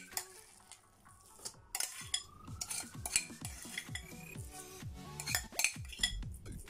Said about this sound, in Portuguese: usar aqui a colher para espalhar bem a massa na forma